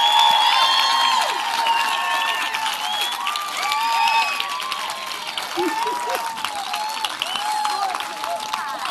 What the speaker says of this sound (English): a round of applause for the amazing,